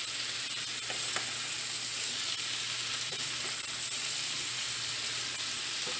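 Steady, bright sizzling of cabbage frying in a pan, continuous and close, with faint scraping clicks now and then.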